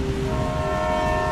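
A train rolls past with a steady, loud horn blast held throughout, its sustained tone riding over a constant rumble of wheels on rails.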